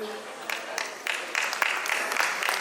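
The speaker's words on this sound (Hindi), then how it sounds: "जोरदार तालियां बजाइए जिससे कवियों का उत्साह हो सके।" An audience at a poetry gathering applauds as poets take the stage, scattered claps building into a fuller patter, with a voice speaking over part of it.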